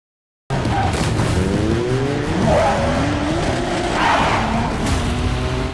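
A motorcycle speeds off during a film chase scene, its engine roaring steadily and loudly from start to finish after a brief silent opening.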